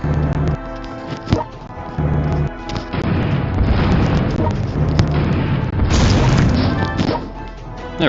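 Artillery bombardment in the strategy war game World Conqueror 4: a continuous barrage of booming, crashing explosions over game music, with several sharper blasts standing out near the start and around the middle.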